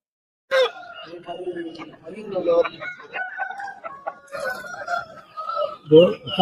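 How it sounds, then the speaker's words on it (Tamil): Several roosters crow loudly nearby at a livestock market in Erode district, their calls overlapping amid clucking and a busy crowd of people talking in the background. "அங்கங்க சேவல் கட்டி மட்டும் வச்சிருக்கிறாங்க"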